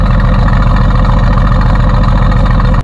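A Mercedes-AMG GT S twin-turbo V8 idles loudly and up close, a deep, steady burbling rumble with an even pulse running without a break.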